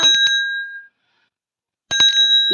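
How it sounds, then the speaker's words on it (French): A small bell is rung a few times in quick bright strikes near a farmer's sheep, then falls silent before ringing again, its sustained tones hanging over faint background noise. "Fait sonner la cloche."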